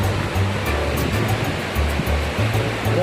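Sea waves wash onto the beach at Al Shuqaiq, Jizan, Saudi Arabia, a steady close roar of surf with continuous rushing water.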